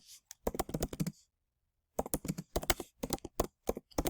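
Fast typing on a computer keyboard, close and crisp, in two bursts of rapid key clicks separated by a short silent pause.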